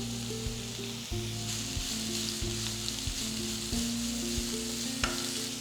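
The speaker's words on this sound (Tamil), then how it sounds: "வெங்காயத்தை ஒரு அஞ்சு நிமிஷம் வதக்கினா போகிறோம்" Onions and curry leaves sizzle steadily in a hot pan, with occasional stirring scrapes and a low tonal hum running underneath.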